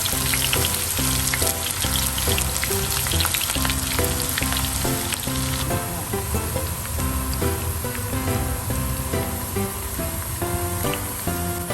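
Shallots deep-frying in a large pan of hot oil, a dense crackling bubble running throughout, with music playing over it.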